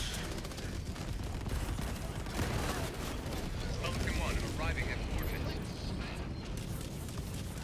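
Aircraft strafing run in a video game: dense, continuous gunfire and mechanical rumble fill the whole stretch at steady loudness, with players talking over it.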